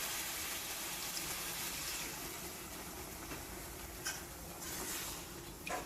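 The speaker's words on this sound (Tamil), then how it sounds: "நான் ஒரு 2 டம்ளர் தண்ணி சேர்த்துக்கிறேன்." Water poured into a pot of Tamil mutton kulambu, a steady broad pouring rush running close and continuous for several seconds with a few brief splashy bursts near the end, no voices over it.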